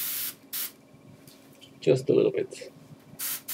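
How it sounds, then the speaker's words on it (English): Airbrush spraying thinned opaque pink paint in short bursts, a few brief hissing sprays at the start and end with a quiet voice speaking in between. "Damn, an airbrush failure."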